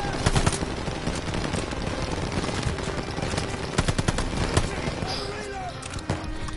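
Call of Duty Vanguard gunfire, dense rapid bursts of automatic shots and scattered single cracks piling up continuously, loud and busy with battle noise and someone talking over it.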